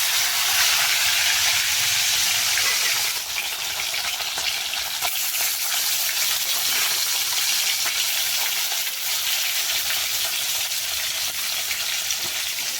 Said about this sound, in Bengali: কড়াইতে তেল দিয়ে দিয়েছি এখন মাছগুলো ছেড়ে দেবো